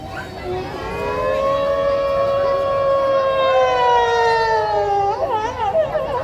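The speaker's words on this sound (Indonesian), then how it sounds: "menyalakan sebuah sirene." A mosque siren switched on by a guard during Ramadan, a loud wailing tone that rises, holds steady for several seconds, then wavers and breaks off, heard close and clear.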